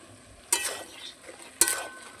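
Green chillies added to bottle gourd and prawns frying in a pan, two short bursts of sizzling and stirring over a faint background.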